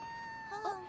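Cartoon cat stuck in a tree gives a short, faint meow near the end, thin and plaintive, after a stretch of quiet background tone.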